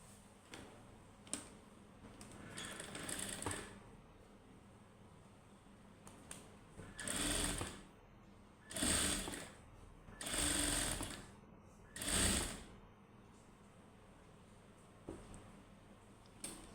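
A sewing machine runs in short bursts of rapid whirring stitches on a cross-cut piece of frock fabric, four main runs spaced a second or two apart, with faint ticks and handling clicks between them; close but fairly quiet, no talking.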